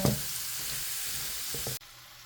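Onions and garlic sizzle in a pan for pancit palabok, a steady close frying hiss with a few stirring clanks, ending abruptly when the heat or stirring stops.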